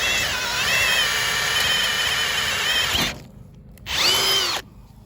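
A power drill boring through metal with a drill bit while work is done on a go-kart steering setup, a loud steady whine with a squealing edge for about three seconds, a short pause, then a second brief burst.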